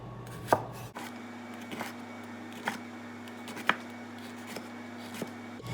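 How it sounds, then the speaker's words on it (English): A knife thinly slices a jalapeno with about seven crisp, close taps at an uneven pace over a low steady hum. "And now I'm going to thinly slice the jalapeno, removing the ribs and seeds if you prefer less heat."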